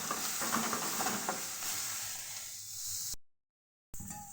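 Onion, coriander leaves and dry chillies go into hot oil for a tempering, giving a steady close hiss and sizzle that fades out, with a brief gap before it resumes.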